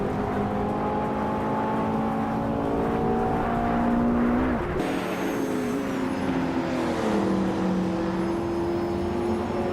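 A Ferrari F40 Competizione race car in a racing video game, its engine droning steadily at high revs with tonal whine shifting pitch through gear changes, loud and continuous without speech.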